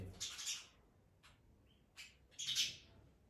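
Small bird at a house giving a few short, bright chirps in separate bursts, fairly close but quiet against a still background, with no talking.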